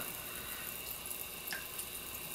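Water from a rock garden water feature bubbling and trickling as a steady, even wash of sound, moderately quiet and continuous, with no voices.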